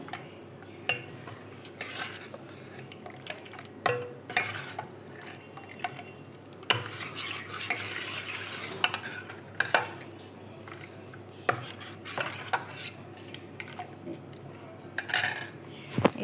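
A spoon mixes ingredients in a pot for Alibag buttermilk kadhi, making repeated sharp metallic clinks and scrapes against the vessel, close and intermittent over quiet room tone.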